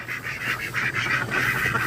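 Ducks quack in a rapid, raspy series at morning feeding time on a farm, fairly close but moderate in volume, with soft rustling underneath.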